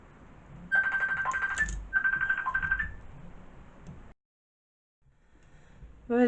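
A telephone rings with two long electronic trilling bursts, clear and fairly close, then cuts off into silence before a brief new sound starts at the end.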